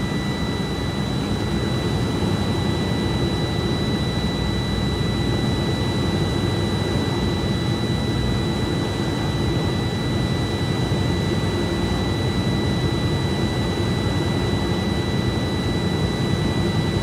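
A truck engine held at 1,000 to 1,500 RPM to build air brake pressure, a steady, loud, unbroken drone with broadband rumble that does not change for the whole stretch.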